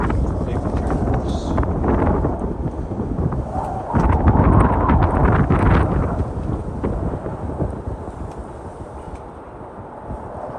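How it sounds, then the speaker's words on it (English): Storm wind blows through an open-sided shelter in Utah, with gusty rumbling and buffeting against the microphone that rises and falls over ten seconds, and a few voices talk faintly beneath it. "we're just going to watch the winds blow through"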